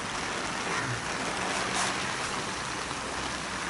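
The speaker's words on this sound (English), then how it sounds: "and then we've had some heavy rain come." Heavy rain drums steadily on the plastic cover of an allotment polytunnel in January, a dense, even hiss that fills the space without a break and with no voices.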